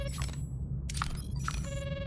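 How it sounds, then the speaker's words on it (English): An electronic phone-like ring in a Star Trek Voyager space game, a short series of repeated synthetic chirping tones over a steady low ambient hum, clear and moderately loud. "It's like the phone."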